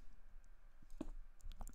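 Typing on a computer keyboard comes through as a few faint, sparse clicks and taps at close range, with quiet gaps between keystrokes.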